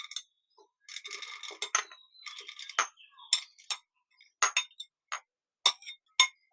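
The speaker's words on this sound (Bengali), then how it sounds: "ধুয়ে রাখা ডালটুকু কুকারে নিয়ে নিচ্ছি।" Washed chana dal tipped into a pressure cooker, with bursts of hard grains clinking and pattering onto metal followed by a few separate sharp clinks, close and fairly clear, with no talking.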